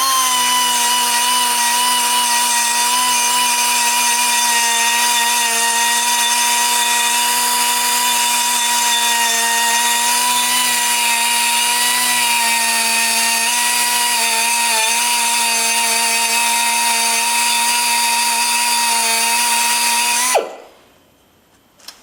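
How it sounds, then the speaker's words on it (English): A die grinder cleans up a part for a homemade water-cooled Briggs engine, giving a loud, steady high-pitched whine with little variation for about twenty seconds before it cuts off and spins down abruptly. "Or maybe clean it up here with the die grinder"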